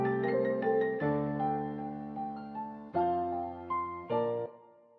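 A melodic beat loop sped up to 156 BPM and pitched down one semitone, with sustained layered tones and chord changes every second or so. It plays alone at steady volume with no talking.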